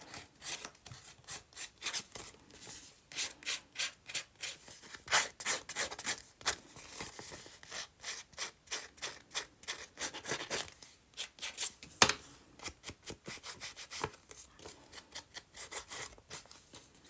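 Dry, rhythmic scraping and rasping of scissor blades dragged across paper to distress it, close and steady with a few sharper scratches, no voices.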